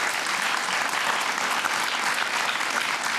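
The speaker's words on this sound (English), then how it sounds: "give Ezra a round of applause" A studio audience bursts into sustained, dense applause, a loud and even wash of many hands clapping together with no break.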